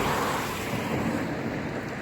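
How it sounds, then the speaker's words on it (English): A car hisses past on a nearby road near Stopham Bridge, its broad tire-and-engine noise swelling and fading against steady outdoor background. "some vehicles are about to go by, so sorry if it gets a bit noisy."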